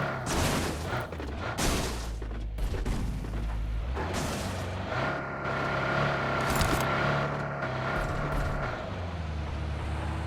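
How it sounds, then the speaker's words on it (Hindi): In PUBG Mobile on the Erangel map, a vehicle's engine drone builds steadily through dense, loud battle noise with booming gunfire, the motor hum growing stronger and holding through the second half. "कुछ देर आगे बढ़े ही थे कि एक आ गई गाड़ी की आवाज"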